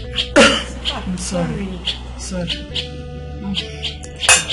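A sneeze bursts out near the start amid indoor conversation, with a second sharp sneeze-like burst near the end; voices talk throughout.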